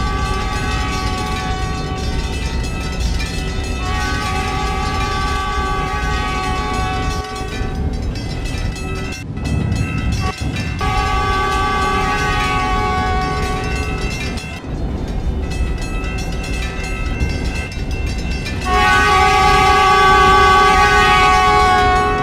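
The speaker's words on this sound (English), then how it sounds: "Now arriving on track 5 is the Pensacola Limited, southbound express service" A simulated train in Trainz arrives at Virginia Beach Station, rumbling and humming steadily with long horn blasts sounding several times, the rolling noise growing louder toward the end; no one speaks.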